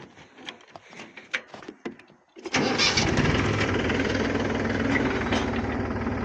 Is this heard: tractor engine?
yes